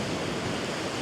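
Ocean waves break on a beach at sunrise, a steady broad wash of surf filling the short stretch without pause and with no voices.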